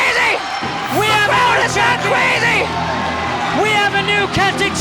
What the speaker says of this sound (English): The crowd has gone crazy!